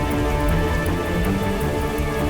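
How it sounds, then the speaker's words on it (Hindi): Heavy rain pours down steadily during a monsoon storm, a dense, even hiss of drops pattering on surfaces that continues without pause from start to finish. "बारिश तो और बढ़ी जा रही है।"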